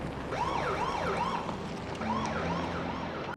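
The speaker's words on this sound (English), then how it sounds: "Why is he running the siren in the neighborhood?" A police car siren wails in a steady rising and falling cycle, fairly close and continuous, with no talking over it.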